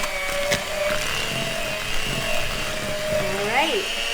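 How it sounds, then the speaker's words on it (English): An electric mixer whirs steadily as it beats sugar and eggs into a smooth batter for orange ricotta cookies, a continuous close hum heard under a person speaking. "we're gonna use our mixer, and we're gonna mix this until everything is smooth"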